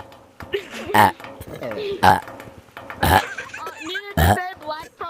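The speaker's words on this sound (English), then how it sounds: "this guy's chasing me while burping" A person lets out a series of loud, drawn-out burps, four distinct belches spaced about a second apart, close to the mic over faint background game noise.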